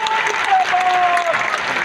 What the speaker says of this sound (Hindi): आप इनके लिए एक बार जोर से ताली